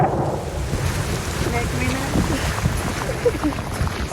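Heavy rain on the Isle of Skye, Scotland, a dense steady hiss of falling water mixed with gusty wind buffeting the microphone, close and loud for the whole stretch.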